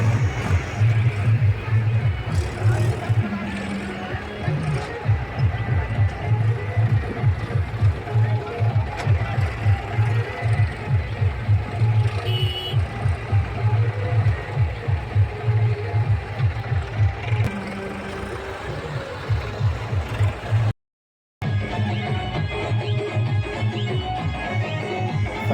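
Tractor engines running near a temple at a village fair, a continuous chugging throb that lasts throughout, with voices and crowd chatter over it and a brief cut near the end.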